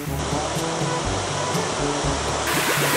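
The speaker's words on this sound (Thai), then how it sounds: "ฝนตกครับไม่ใช่ครับน้ำตกครับ" A waterfall at an airplane-themed cafe in Nakhon Pathom, heard as a steady, dense rush of falling water, continuous and fairly loud throughout, with faint low voices underneath.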